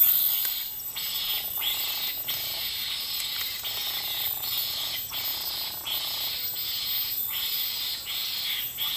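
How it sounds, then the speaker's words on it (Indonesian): Repeated spotted dove calls in a steady rhythmic series, mid-distance, over a constant high insect drone in an otherwise quiet outdoor setting. "Banyak suara tekukur"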